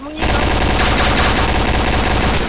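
Loud, rapid gunfire in the shooting video game Point Blank rattles almost without pause for about two seconds, dense bursts of shots layered over one another.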